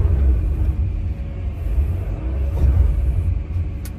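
Komatsu PC210 LC-11 excavator (2019) swinging its upper structure, a steady loud low engine and hydraulic rumble running throughout, close by, with no talk.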